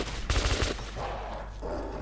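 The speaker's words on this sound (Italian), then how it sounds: "sembra di sparare con un fucile a positroni" Rapid bursts of gunfire from a positron rifle in the video game Metro 2033, a dense cluster of shots followed by a rumbling tail, with no talk.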